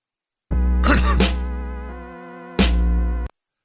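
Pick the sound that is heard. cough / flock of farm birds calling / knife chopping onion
cough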